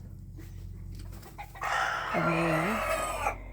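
Chickens in a backyard coop cluck softly, then a rooster crows loudly and close by, one long drawn-out call over steady low background noise, with a brief spoken remark just before.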